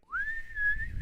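A voice imitates a blown whistle, giving one sustained, steady shrill tone that rises at the start and holds, close and fairly loud, with nothing else behind it.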